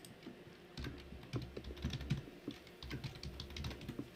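Quiet, steady typing on a computer keyboard while entering a name during an Ubuntu 23.10 virtual machine install, a run of soft close keystroke clicks with a brief pause in the middle.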